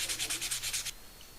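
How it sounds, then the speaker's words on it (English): A wooden tool handle is sanded by hand in quick back-and-forth strokes, about nine rasping passes close up, then it stops and a quiet room hiss remains. "Do plenty of sanding to get that handle into its final configuration."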